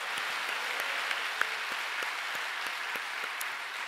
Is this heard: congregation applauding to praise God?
yes